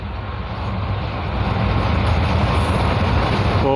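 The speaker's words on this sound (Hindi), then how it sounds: "double locomotive" A double-locomotive train hauls past Risalewala railway station, a loud, steady low rumble that swells slightly and holds without a break.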